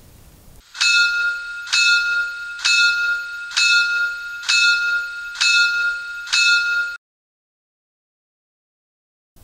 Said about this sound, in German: F4 Glocke.